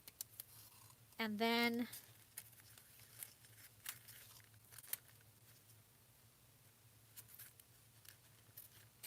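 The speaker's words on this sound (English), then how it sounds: "I'm going to cut it across a little bit lower" Scissors snip through a handmade collaged paper tag in a few quick, close, crisp cuts amid quiet crafting rustles, with a voice speaking briefly.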